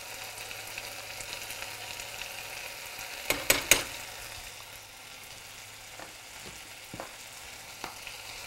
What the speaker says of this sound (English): saute it till the raw flavor from the spices have gone